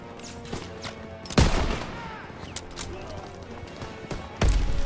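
Machine gun fire in the Call of Duty WW2 video game, sharp bursts of shots with two heavy booming blasts amid rattling battle noise, a voice talking underneath.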